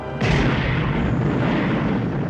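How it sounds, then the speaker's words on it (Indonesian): A boathouse blows up in a film, a sudden loud boom that hits sharply after a brief moment of quiet, then rolls on as a heavy, sustained rumble that slowly fades. "Gudang perahu kemudian meledak."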